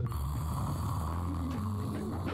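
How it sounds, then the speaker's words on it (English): An analyzer machine in a video game puts out a steady, loud, continuous snore-like drone that runs unbroken through the whole stretch, with no talking over it. "it's the machine that's making that sound. It's meant to look like he's snoring."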